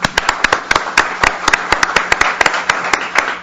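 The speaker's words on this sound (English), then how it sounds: "Let's give them all a round of applause." Sparse, distinct hand claps from a small audience at a policy forum, each clap sharp and separate in an irregular rhythm, with no voices over them.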